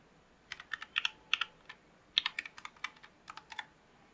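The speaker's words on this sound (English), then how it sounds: "you press the keys that you want to be color blue" Keys on a Hexgears X1 low-profile RGB mechanical keyboard clack in quick irregular bursts, a dozen or more sharp close clicks at moderate volume with short pauses between presses, no voices.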